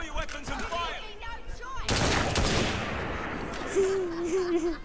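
Gunfire in the video game Assassin's Creed Syndicate, a loud burst of shots starting a couple of seconds in and rolling on as a dense crackle, with game voices and sounds around it.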